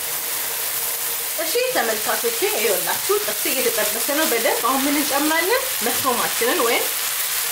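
Lamb and mushroom tibs, an Ethiopian dish, fry in a pan with a steady, close sizzle and occasional stirring scrapes. A sustained tonal hum, likely from a stove fan, runs underneath throughout.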